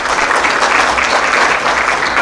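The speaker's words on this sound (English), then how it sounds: "A very warm round of applause to Bernard and Veronica" Loud, dense applause from a large seated audience at a live public forum, a continuous roar of many hands clapping close and full without pause.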